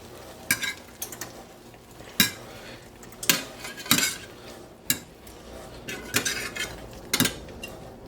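A metal utensil scrapes and clinks against a pan as breaded chicken pieces are turned over one by one, giving irregular sharp knocks spaced a second or so apart over a quiet background sizzle.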